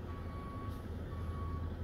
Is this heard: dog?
no